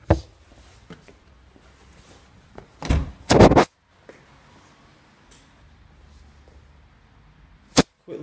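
A used car's boot lid is opened, giving a few sharp clunks and a latch-like thud in a quiet outdoor setting, with short rustles before and a final click near the end.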